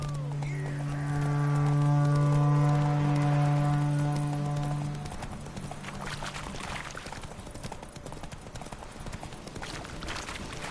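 Horse hooves clip-clop at a steady galloping rhythm in a PS4 video game, running throughout under a loud sustained low tone in the first half that then drops away.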